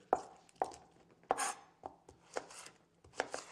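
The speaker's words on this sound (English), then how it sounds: "Get this nice and chopped up." A knife chops fruit or vegetables on a board before they are rinsed under a tap, giving about eight close, sharp, irregular thuds with short gaps between.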